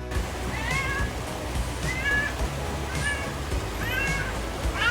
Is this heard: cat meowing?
yes